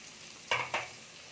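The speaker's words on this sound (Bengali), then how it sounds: "এখানে আলু দিয়ে আমি একটু নেড়ে নিচ্ছি।" Long-cut potato strips frying in a hot pan are stirred twice in quick succession, giving two short, close scraping sizzles over a faint steady background.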